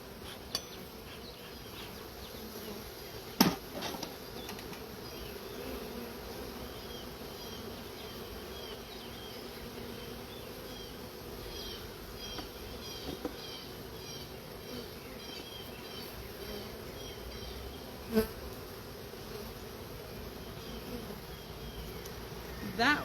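Honey bees buzz steadily around an open hive, a dense continuous drone with a few sharp knocks and clicks of hive handling.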